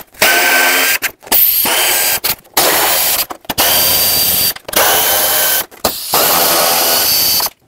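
A power drill or impact tool runs in about seven sustained bursts separated by short pauses, loud and close, as 10mm bolts are backed out of a car's bumper valance that holds the turn signals.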